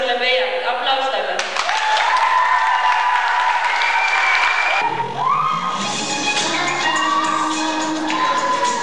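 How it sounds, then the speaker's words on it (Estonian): An audience at a contest claps in a steady burst of applause for a contestant, mixed with music and a voice over the crowd. "Aplaus talle."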